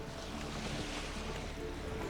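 Boat gliding over calm water with no wind in The Witcher 3, a steady soft wash of lapping water and faint breeze, continuous and even throughout with no voices.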